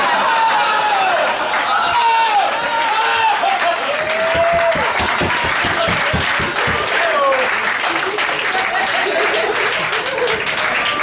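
Live audience at a comedy roast in a Richmond, Virginia cafe claps and cheers loudly, a dense continuous wash of applause with whoops and voices calling out over it.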